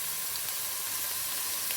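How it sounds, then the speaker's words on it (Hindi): Chicken and potatoes frying for a chicken potato korma, a steady bright sizzle that holds even and close throughout, with no voices. "बस 3-4 मिनट तक इसको भी भूनना है ताकि इसकी जो है रंग जो है वो ब्राउन हो जाए"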